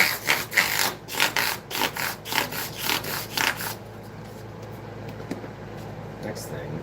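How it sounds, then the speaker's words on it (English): Guitar frets are rounded with 600 grit automotive sandpaper wrapped on a shop squeegee, giving about eight quick rhythmic back-and-forth rasping strokes. The strokes then stop, leaving a low background hum. "with some 600. And we're rounding, we're just kind of giving the frets a little bit more roundness."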